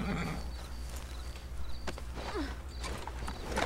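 A horse trotting in Red Dead Redemption 2, its hooves beating a steady clip-clop rhythm over a continuous outdoor ambience, at moderate loudness with no talking.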